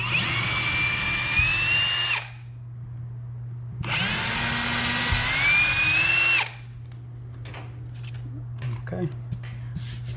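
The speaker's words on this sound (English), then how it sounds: "And drill these holes." A handheld power drill bores holes for window blind brackets in two loud bursts of whining spin, separated by a pause filled with a low steady hum and small handling clatter.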